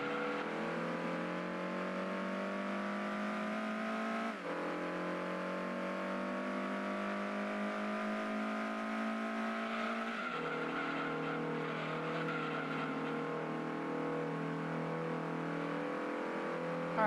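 Racing cars in Gran Turismo 2 holding a sustained engine whine that climbs steadily through the gears, with tire squeal from drifting woven in; two sharp gear-change drops punctuate the long steady run, close and loud with no talk.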